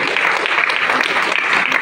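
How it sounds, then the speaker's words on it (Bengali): A seminar audience in an auditorium claps continuously in dense, even applause that fills the whole moment. "একটা হাততালি পেতে পারে তো নাকি?"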